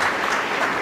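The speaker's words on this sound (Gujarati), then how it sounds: "એમના માટે પણ આપણે જોરદાર એક તાળી પાડી દઈએ" A crowd clapping together at a gathering, a dense, loud burst of applause filling the whole moment.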